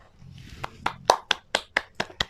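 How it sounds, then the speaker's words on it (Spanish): Applause for honored people, heard as about eight sharp, separate hand claps in a steady, slightly uneven rhythm, fairly close and distinct over a quiet background. "un fuertísimo aplauso a estas personas"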